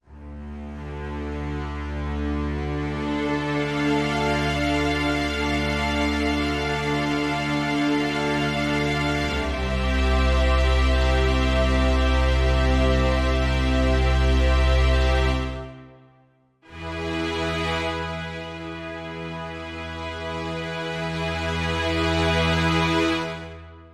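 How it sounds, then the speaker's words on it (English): Orchestral strings full sustain preset from the Orchestra Elements library, all five string sections playing together: rich, sustained chords swell and hold, with a brief break before the full ensemble enters again. "we have the strings full sustain, which has the sustain of all 5 of your usual culprits in your string section"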